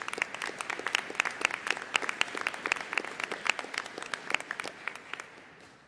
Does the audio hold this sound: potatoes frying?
no